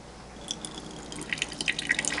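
Water trickles and drips into a container of scooped-out tomato seeds from a very meaty homemade tomato, set to soak. There are light splashy droplets that build toward the end, fairly quiet and close, with no talking.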